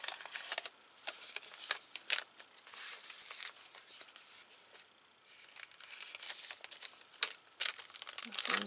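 Glassine or wax paper envelopes wrapping watch springs crinkle and rustle close by in quick, uneven bursts as they are handled and unwrapped, with quiet gaps between.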